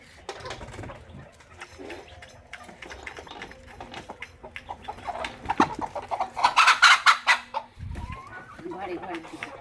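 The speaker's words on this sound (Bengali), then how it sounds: "এবার আমি আমার কতগুলো দেশি মুরগি আছে তাই মুরগিগুলো ঘরের দিকে ছাড়বো" Desi chickens are let out of their coop, clucking softly at first and then breaking into a louder burst of agitated cackling, with a person talking over the birds throughout.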